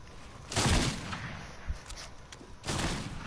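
Shotgun blasts in a video game, two heavy booming bursts a couple of seconds apart over a low background rumble, moderately loud, with no talking.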